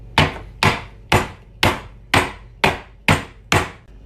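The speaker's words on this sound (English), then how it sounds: "The recipe says that the lemongrass should be bruised, which I think is chefy code for whacking the shit out of it with a tin of beans" Lemongrass stalks bruised by whacking them with a tin of beans: eight heavy, evenly spaced thuds, close and loud, each with a short ringing decay, alone without talk.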